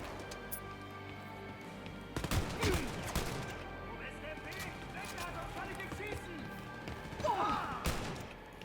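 Shotgun blasts in Wolfenstein: Youngblood ring out as a few sharp, separated booms over steady game noise, with a person talking throughout.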